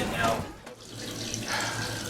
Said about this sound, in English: The water is pouring in.